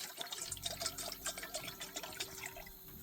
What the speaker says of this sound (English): I'm going to add some bottled water into this bowl